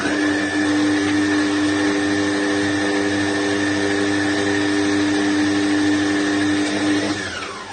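An electric mixer whirs steadily as it beats eggs and milk for a soft milk-bread pastry dough, a loud, even motor whine that holds its pitch for several seconds before dropping as it slows at the end.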